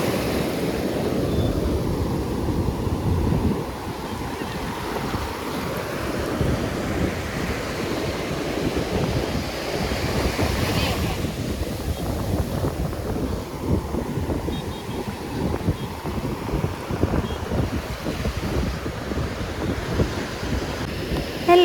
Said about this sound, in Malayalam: നല്ലവണ്ണം കേട്ടോ നിങ്ങൾ ആ തിരമാലകളുടെയൊക്കെ സൗണ്ട്?